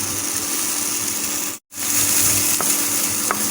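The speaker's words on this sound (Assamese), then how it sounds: "অকণমান ভাজি হৈ গ'লে ইয়াত অকণমান পানী দি আকৌ ভালদৰে অলপ ভাজিব লাগিব, যাতে সৰিয়হখিনি ভালদৰে ভাজি খায়" Mustard seeds frying in hot oil in a pan give a steady close sizzle with faint crackles, broken by a brief silent gap partway through.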